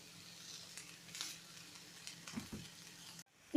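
Onion, eggplant and capsicum sauté in a pan for a bread tawa pizza topping, a soft continuous sizzle with light stirring patter and a few louder scrapes near the end, quiet and steady without speech.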